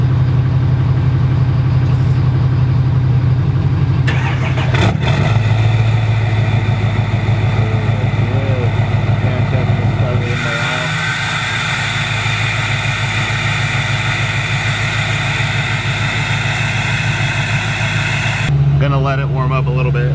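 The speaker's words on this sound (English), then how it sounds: "Cold start. Let's cross our fingers and hope this thing starts." A SEMA build truck engine cold-starts after sitting for about a month, settling into a loud, steady low idle rumble with a brief shift partway through, while someone talks over it.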